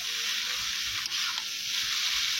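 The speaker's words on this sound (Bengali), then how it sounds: "সেদ্ধ করে রাখা চাউমিনগুলো মশলার মধ্যে দিয়ে ভালোভাবে নাড়াচাড়া করে নিতে হবে" Boiled chow mein noodles are tossed through spices frying in a pan, giving a loud, continuous hissing sizzle that stays even and close throughout, with a brief dip mid-way as the noodles are stirred.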